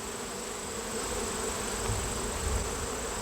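Honey bees swarm around an open Layens hive during an inspection, making a dense, continuous buzzing drone that stays steady and close throughout.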